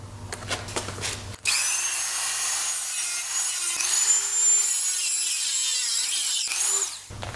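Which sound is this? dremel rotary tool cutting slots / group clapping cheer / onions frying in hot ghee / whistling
dremel rotary tool cutting slots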